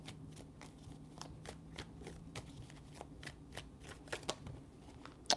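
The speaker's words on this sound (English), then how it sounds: "Three shuffles." Tarot cards are shuffled by hand during a reading, close and quiet. A series of crisp riffling bursts repeats in a steady rhythm, with a few sharper snaps near the end.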